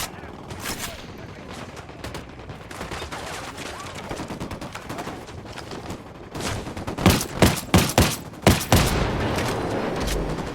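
Heavy gunfire from rebels shooting at cartel forces in Ghost Recon Wildlands, a steady rattle of automatic fire that swells into a run of loud, closely spaced bursts and booms near the end.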